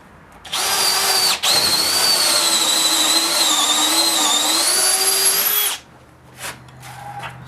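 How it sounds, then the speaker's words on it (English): A power drill bores 3/8-inch holes while mounting a new 5-inch swivel vise. It whines loudly and steadily for about five seconds with a brief dip partway, then stops, leaving a few faint clicks. "Drill your holes."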